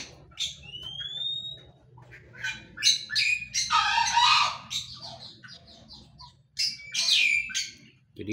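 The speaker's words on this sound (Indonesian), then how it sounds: "di atas sana juga ada burung manyar yang sedang bikin sarang" Assorted birds call and chirp in a backyard aviary while weaver birds build nests overhead, with sharp squawks, whistled tweets and a dense burst of chatter in the middle, over a low steady background hum.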